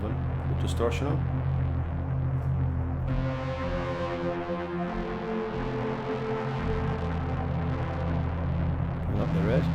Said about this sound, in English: Bring up some more drive on, put distortion on.